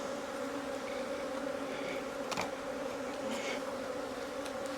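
Honey bees hum steadily during a single brood chamber hive inspection in April, a close, even drone with faint clicks and small knocks from the hive woodwork.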